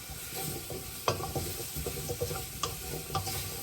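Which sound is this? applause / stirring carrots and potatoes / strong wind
stirring carrots and potatoes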